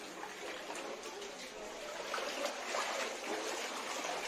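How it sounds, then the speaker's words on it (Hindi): Floodwater pours into a shop in flooded Silchar, Assam, a steady faint rushing and trickling wash heard at a distance throughout, with no clear voices over it. "अरे कितना पानी अंदर आ गया।"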